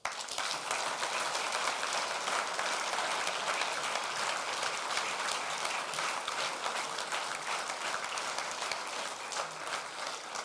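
Steady, full audience applause from a large crowd at an event in Portorož, dense and even throughout with no voices standing out.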